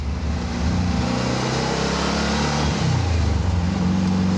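A 1948 Porsche 356 Speedster replica with synced carburetors, its engine droning steadily and revving up through the gears, loud and close from inside the cabin.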